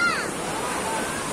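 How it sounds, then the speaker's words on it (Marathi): Sea waves wash in at high tide on Alibag beach, a steady, loud rushing surf with wind noise and no pause. "कसा खळखळ खळखळ खळखळता समुद्र आहे. भरती चालू आहे."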